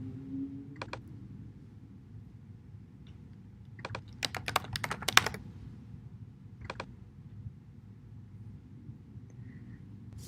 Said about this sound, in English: Just click the Add link under the group column and enter the label you'd like